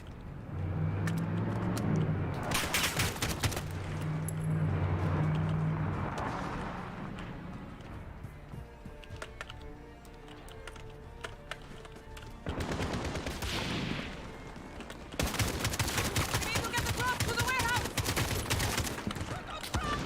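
Rapid gunfire in Call of Duty Zombies, loud bursts coming in waves among engine noise and game effects, with voices talking over the shooting.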